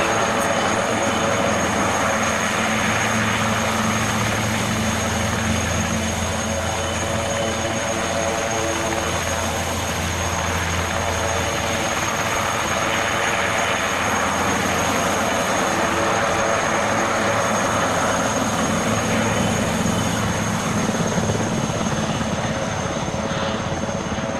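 Helicopter in the Arma 3 military game, a steady droning rotor and engine roar that holds loud and unbroken throughout, with no talk over it.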